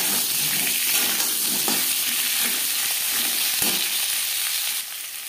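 Potato strips sizzle steadily in hot oil with panch phoron and bay leaf, a dense continuous crackle and hiss with occasional stirring scrapes, loud and close, easing slightly at the very end.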